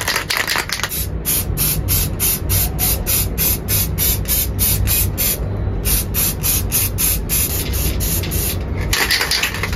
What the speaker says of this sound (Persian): داریم میریم تو بالکن قطعه‌مون رو اسپری بزنیم بهش.